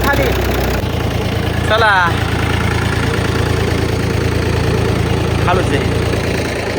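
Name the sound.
Mahindra tractor engine idling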